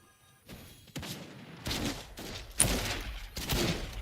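Sniper rifle fire in the game Realm Royal Reforged, several sharp cracks followed by rumbling bursts of gunfire that come in waves, moderately loud against a quiet start.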